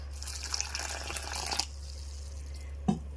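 Water being poured into a bowl of lentil snack dough with curry leaves, a soft trickling splash for about a second and a half, then quiet with one brief drip or knock over a low steady hum.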